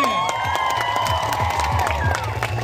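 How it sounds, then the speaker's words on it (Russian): An audience at a children's summer camp event claps and cheers in dense, continuous applause with scattered shouts, loud and sustained throughout. "Ваши аплодисменты!"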